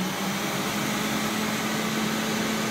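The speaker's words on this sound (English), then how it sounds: "Let's switch it on at the vacuum." A Rainbow SE vacuum cleaner, UK version, runs at a steady loud drone with a constant motor hum and airy rush, close and unbroken.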